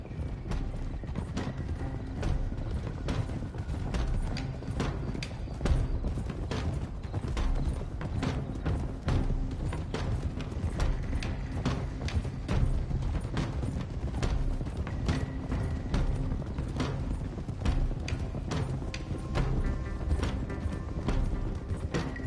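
Horses' hooves clip-clopping steadily as riders travel in the video game Red Dead Redemption 2, a continuous, fairly loud rhythm of multiple horses with creaks of tack underneath.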